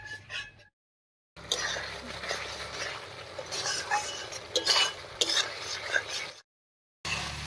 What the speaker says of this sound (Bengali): এবারে বেশ কিছুক্ষণ সময় নিয়ে মশলাটা খুব ভালো করে কষিয়ে নেব।